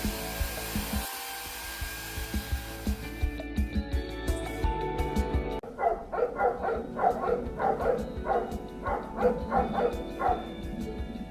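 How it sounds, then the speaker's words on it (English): Several dogs in Bulgaria barking repeatedly in an uneven burst, moderately distant, over a steady background hum. "Those dogs just keep opening their faces."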